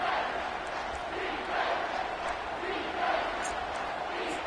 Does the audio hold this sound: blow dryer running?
no